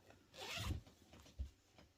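A zipper with a pink zip on a lined bag is pulled in one long rasping stroke, followed by a couple of brief softer zip tugs and handling rustles, close and quiet.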